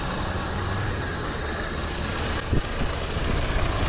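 An Oldsmobile Cutlass engine runs rough after a fuel pump swap and a plug regap, a loud, steady, shaking rumble with one brief knock partway through and no speech.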